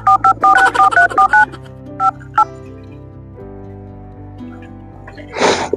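Keypad tones of a phone number being dialed: a quick run of short beeps, then a few spaced single tones, ending with a faint dial or ring sound and a brief rustle.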